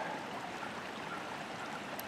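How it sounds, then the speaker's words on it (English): Heavy rainwater runoff rushes across a property in a steady, broadband wash of flowing water, continuous and fairly close, with no voices. "there's just some massive amounts of water going through my property here"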